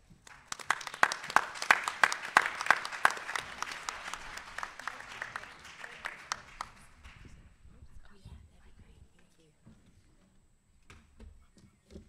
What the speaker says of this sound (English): let's give her a warm applause for coming out here today